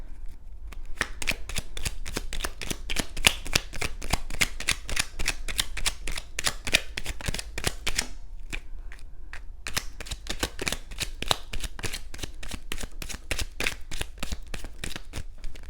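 A deck of tarot cards is shuffled over and over, crisp rapid riffling clicks close up, with a brief pause near the middle and no talking.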